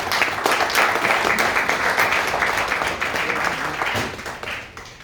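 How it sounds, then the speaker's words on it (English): Applause for a speaker at a speech evaluation event, a full burst of clapping from the room that holds steady and then gradually fades toward the end. "can you give him a big round of applause?"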